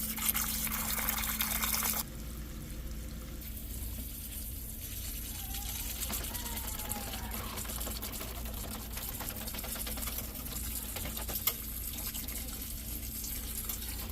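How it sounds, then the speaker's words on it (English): Drips of liquid falling into the drain tray of a home HVAC air handler during a blower motor replacement, faint scattered patters against a steady mechanical hum and background noise, with no talking. "Yeah, I most definitely dripped a bunch in there."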